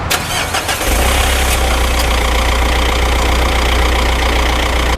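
A Mitsubishi Triton 2.5 diesel pickup engine cranks and starts after about a second, then settles into a loud, steady, close-up idle with a low diesel clatter.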